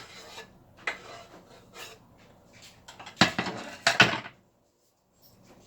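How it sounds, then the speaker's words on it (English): Diced tomatoes are stirred into a damp bread mixture in a bowl, giving intermittent close scraping and clinking strokes that grow louder in a short burst before falling silent. "Stir that around like so."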